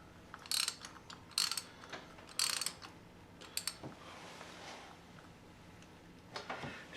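Ratchet wrench tightening a spark plug on a 2006 Hummer H3 engine: three loud bursts of rapid clicking early on, then softer scattered clicks and a final short ratcheting run, with no talking.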